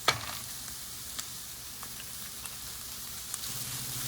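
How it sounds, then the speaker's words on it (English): Vegetables with shiitake mushrooms sauté in a hot pan, giving a steady even sizzle with a few soft ticks and pops, close and low in level. "And let it saute for about a couple of minutes."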